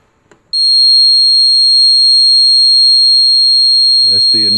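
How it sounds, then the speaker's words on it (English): A single sharp electronic beep from a wireless RF amplifier remote cuts in and holds as a long, loud, steady high programming tone, with a voice starting to speak near the end. "That's the initial programming beat."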